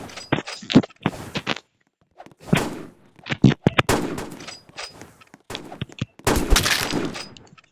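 Gunfire in a first-person shooter video game, with bursts of rapid shots and single cracks coming in clusters separated by short pauses, loud and close.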